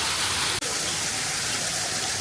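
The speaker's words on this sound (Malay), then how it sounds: "Ini real yang macam air terjun ni." An indoor artificial waterfall inside KLIA airport gives off a continuous loud rushing roar of falling water, steady throughout apart from a momentary dropout.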